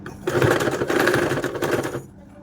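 A sewing machine runs a quick burst of rapid, rhythmic stitching along the shoulder seam of a kids' frock. It starts, pauses briefly, then continues for about two seconds before slowing to a stop.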